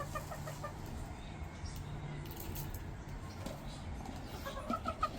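Chickens cluck softly and intermittently at a moderate distance over a steady low background hum, with no voices.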